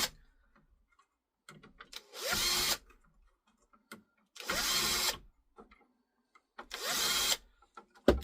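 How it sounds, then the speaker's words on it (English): A power drill runs in three short bursts, backing loosened screws out of a dehumidifier being scrapped for copper, each burst close and loud with quiet pauses between. "Then we can come in with a drill now they're loose and just take them out."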